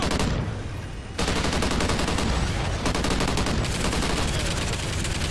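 Automated machine gun turret in Call of Duty: Ghosts Extinction firing loud, dense sustained bursts, a brief dip near the start, then continuous rapid fire to the end.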